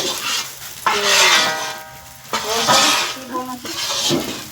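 Edible gum and other panjiri ingredients roast and get stirred in a pan with a close sizzle and scraping, while a person talks over it for most of the time.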